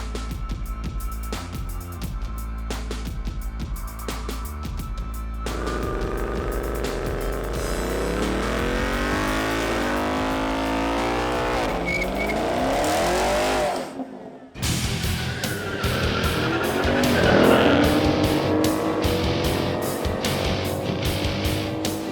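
Chevrolet Camaro and Ford Mustang pony cars, 2019 models, launching hard in a straight line, engines roaring loud and close with rising revs through gear changes, a brief cut mid-run, then another surging pull with tire noise.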